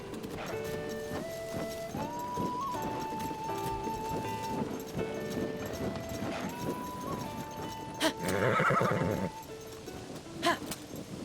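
A horse in Zelda: Tears of the Kingdom whinnies and trots with clip-clopping hooves over a game soundtrack, capped by a louder, brief burst of galloping and neighing near the end.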